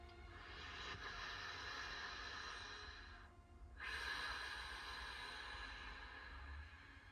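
Slow, steady breaths drawn through a constricted throat make a soft, hissing, ocean-like rush, with a brief pause between inhale and exhale.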